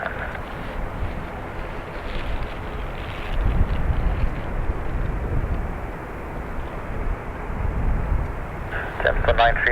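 A Delta 155 airliner takes off from runway 28 right at Dublin Airport, a steady broadband engine roar with wind noise that swells and holds throughout, while a voice talks over it.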